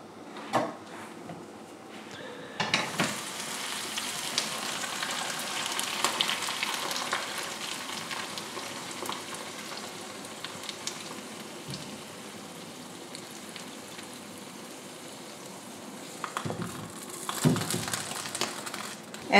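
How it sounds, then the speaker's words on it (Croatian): Potatoes, onion and eggs fry in a pan with a steady, close crackling sizzle that runs throughout, broken by occasional stirring scrapes and a few louder pops near the end. "dok se ovo prži naš krompir i luk"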